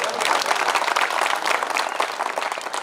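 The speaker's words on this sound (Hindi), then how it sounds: "जितनी तालियां नरसिंहगढ़ के श्रोता कवियों के लिए बजाते हैं, अभी वो घनत्व थोड़ा कम है" Applause from the audience at a Hindi humour and satire poetry recital in Narsinghgarh: dense, steady clapping from many hands, close and loud, running unbroken through the whole stretch with no voices on top.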